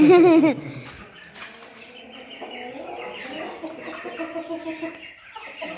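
Young chickens about 56 days old cluck and peep nearby, a loud call at the start followed by a run of softer overlapping clucks.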